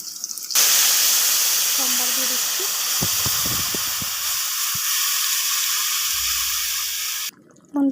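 Tempering spices hit hot oil in a pot of fish curry with ridge gourd, potatoes, bay leaf and onion, giving a loud, steady sizzling hiss that runs for about seven seconds before cutting off, with faint kitchen knocks underneath.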